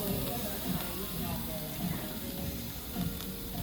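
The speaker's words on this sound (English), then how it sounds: "you get like the raw meat and you grill it on the hot stone, wait for the sizzle" Raw meat grilling on a hot stone: a constant broad sizzling hiss with faint crackles, held at an even level throughout, with a busy restaurant background beneath.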